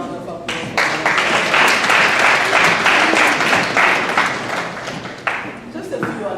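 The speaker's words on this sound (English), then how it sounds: "Another round of applause." A crowd at a holiday appreciation party gives a loud round of applause, with steady dense clapping that rises sharply, holds for several seconds, then tapers into scattered claps, with voices mixed in.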